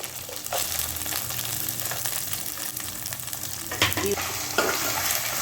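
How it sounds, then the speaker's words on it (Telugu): Onions with ginger paste fry in hot oil in a home kitchen, a steady broadband sizzle that holds throughout, with a couple of stirring scrapes near the end. "ఈ ఉల్లిపాయని కొంచెం ఫ్రై చేద్దామండి."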